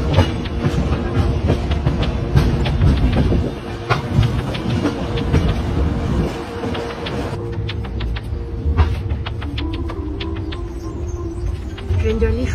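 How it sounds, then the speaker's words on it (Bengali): The Howrah–Ranchi Shatabdi Express (12019) pulls out of platform 13 at Howrah station, its steady rumble and rhythmic wheel clatter continuing throughout, with a bird chirping and faint background voices. "হাওড়ার 13 নম্বর প্ল্যাটফর্ম থেকে ছেড়ে বেরোলো 12019 হাওড়া রাঁচি শতাব্দী এক্সপ্রেস"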